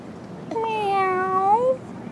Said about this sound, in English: Paige, you hear the word meow?